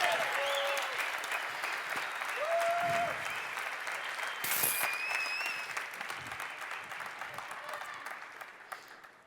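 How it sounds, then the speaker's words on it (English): A crowd applauds the barista champion of France at the 2015 World Barista Championship in Seattle, sustained clapping throughout with some cheering and a voice over it. "I want to hear a huge round of applause for the barista champion of France"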